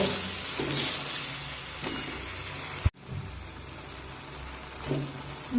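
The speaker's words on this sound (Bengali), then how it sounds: "হাফ স্পুনের একটু কম লঙ্কার গুঁড়ো দিয়ে আবারও এক থেকে দু মিনিট আমি মিডিয়াম ফ্লেম করে কষিয়ে নেব" Spices and chili powder sautéing in a pan on a medium flame for an aloo bomb potato dish, giving a soft, low sizzle with occasional stirring scrapes and a sharp knock midway, fairly quiet and close.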